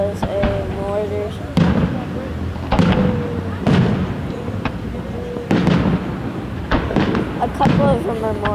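Fireworks mortars bursting during a July 4th display in South Haven, Michigan: repeated sharp booms and crackles every second or two, with people talking and reacting throughout.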